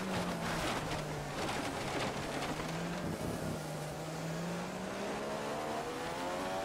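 Race cars in the F1 2015 game at the British Grand Prix, whining engines droning at close range over continuous rushing noise with shifting pitch, though no crash impact stands out.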